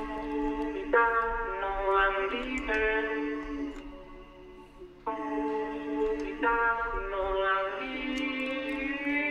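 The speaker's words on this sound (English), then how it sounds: "I then have this vocal that I've just added and chopped up" A sung vocal sample in an FL Studio drum and bass project plays as sustained, pitched phrases that shift note every second or so, quiet and alone with no drums.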